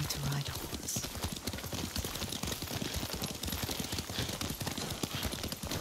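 Horse hooves clip-clopping at a steady riding gait in the video game Ghost of Tsushima, a close, continuous rhythmic patter of hoofbeats that lasts throughout.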